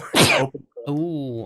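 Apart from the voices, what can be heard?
sneeze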